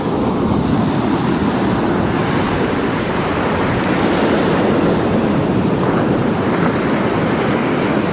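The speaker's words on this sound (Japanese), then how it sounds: "結構波は、" Rough, high ocean waves surge steadily onto a beach near Dawei, Myanmar, a continuous close roar of surf mixed with wind buffeting the microphone, with no talking.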